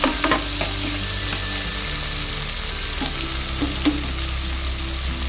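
Onions and green chillies sizzling steadily in hot oil in a pan for mint rice, with occasional stirring scrapes and clinks over a loud, continuous frying hiss.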